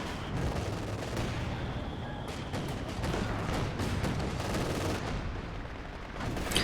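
Continuous dense gunfire and explosions from a World War II video game match with an MG34 machine gun, a loud unbroken battle roar with rapid overlapping shots throughout.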